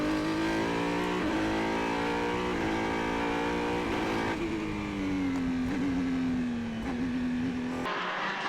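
Formula BOSS single-seater race car at Mondello accelerating hard down the straight, a loud, continuous high-pitched engine howl climbing through the gears with brief shift dips, heard alone without voices.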